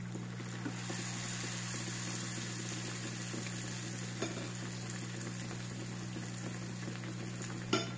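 Eggplant slices fry in hot oil in a small pan on the stove, giving a steady, close sizzle and crackle that runs unbroken throughout with no talking.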